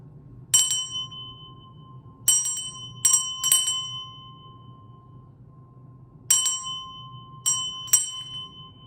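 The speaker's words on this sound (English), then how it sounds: "And then just a couple more minutes of the sound bowls." Singing bowls struck about seven times, each strike ringing out with a clear shimmering tone and long fading sustain over a soft low rumble.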